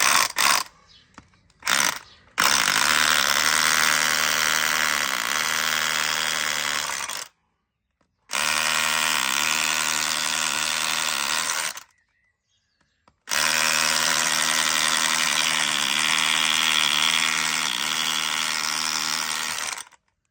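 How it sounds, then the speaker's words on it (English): An older 12-volt SDS drill chipping in hammer mode roars loud and close in three sustained bursts of several seconds each, separated by brief silences, with short start-up blips at the beginning. "So we give a bit of a chipping go with the other one, just to see if there's any comparison that way."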